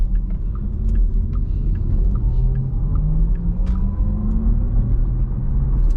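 2022 Porsche Taycan 4 Cross Turismo electric car on the move, a steady low road rumble with faint rising motor whine and small cabin clicks, no speech.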